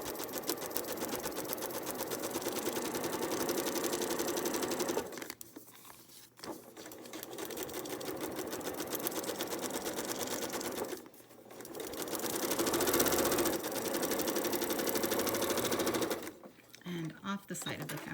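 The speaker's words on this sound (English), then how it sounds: "You're going to want to start sewing outside of the seam allowance and just continue through the seam allowance onto the line." Sewing machine stitching a seam on a foundation paper-pieced quilt block, a rapid steady rattling run close by, pausing briefly twice and resuming, with a voice speaking over it.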